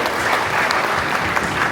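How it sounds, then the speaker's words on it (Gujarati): Steady, dense applause from a crowd at a Diwali rewards ceremony, close and continuous throughout with no break. "જેવી રીતના સમાજને દાન કરે છે તેઓ માટે પણ તાળીઓ થઈ જાય."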